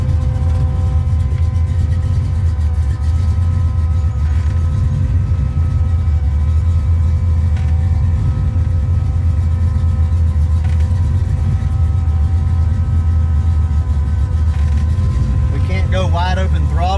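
A garage-built 1965 Fastback with a 347 V8 runs steadily and loudly up close, giving a constant low rumble throughout. A voice briefly joins near the end.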